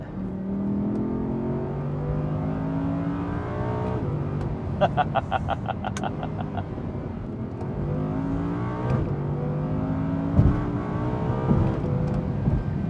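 A 2018 Audi R8 RWS's 5.2-liter V10 engine revs repeatedly through rising gear pulls, loud and close, with a brief high electronic chirping partway through.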